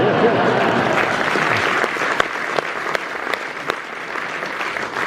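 Theatre audience at The Rep in Dundee giving a standing ovation, with steady, dense clapping that holds loud and continuous throughout, a few sharper claps standing out near the end.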